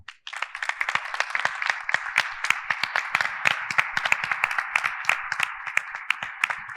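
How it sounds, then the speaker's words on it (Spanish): Audience at a closing ceremony clapping loudly and steadily for nearly seven seconds, individual sharp hand claps standing out across a dense, close patter that holds level to the end. "yo les voy a proponer a los 4 presidentes que aplaudamos a toda la gente que está allá"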